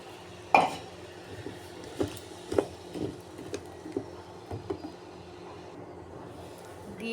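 A spoon scrapes and knocks against a pan while potatoes and spice paste are stirred and fried, light irregular clinks over a faint steady sizzle.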